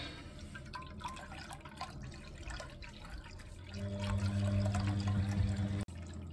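Water trickles and drains steadily from the sump of a flooded Bosch WFK2801 washing machine showing error code 3. A low, steady tonal hum joins partway through, and the sound stays close and fairly quiet.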